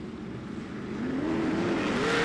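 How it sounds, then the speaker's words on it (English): A race car on a hot lap through the circuit turns, its engine a continuous close drone that climbs steadily in pitch as it accelerates, with no talk over it. "So to Alex Orr in the 43 car as he rolls through turn number 3 and 4"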